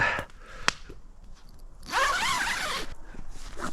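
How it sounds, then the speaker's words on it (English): Sleeping bag zippers on winter camping gear run in a few quick rasping pulls, close and clear, with a sharp snag early and a longer zip in the middle, no talking. "So both the zippers are at the same side."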